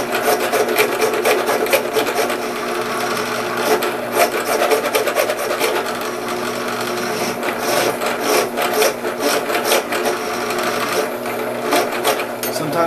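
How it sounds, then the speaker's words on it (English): Fine file rasping steadily over a workpiece while making a DIY heater barrel and nozzle, continuous quick back-and-forth strokes, close and fairly loud, no talking. "these finer files work out much better in the end. To smooth it out and get it cut down"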